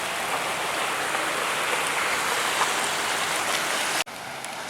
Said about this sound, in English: Monsoon flooding.